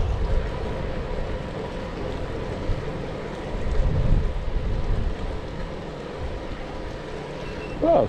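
Strong wind buffets the microphone of a Triban RC500 road bike riding into a headwind on a road, a steady loud roar with gusts rising around the middle and end, and no voices.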